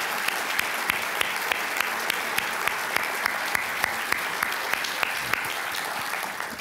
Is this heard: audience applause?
yes